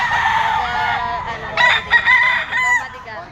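A Sweater-bloodline gamecock crows loudly and close by at a gamefowl market stall in an open-air pet market, one long drawn-out crow rising over a steady murmur of crowd noise.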